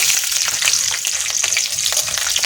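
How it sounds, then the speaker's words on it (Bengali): Garlic frying in a hot pan with oil, a steady, loud, close sizzle with crackling bursts and faint stirring, no voices. "এবার কিন্তু আমি দিয়ে দেবো রসুন"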